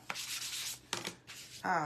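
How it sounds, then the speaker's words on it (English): Sanding block rubbed over a craft pumpkin in three separate bursts of dry, scratchy abrasion, close up and alone, followed by a brief brighter scraping rasp at the end. "I am going to get a sanding block, and I'm just going to sand this pumpkin just a little"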